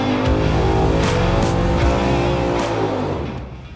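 A Pontiac Ram Air V tunnel-port V8 runs hard on a dynamometer, a loud, close, sustained roar with climbing harmonics as revs rise, then easing toward the end.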